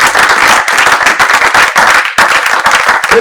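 A church congregation at a Sunday service applauding, with dense, loud, sustained clapping from a large crowd that continues without a break and has no speech over it.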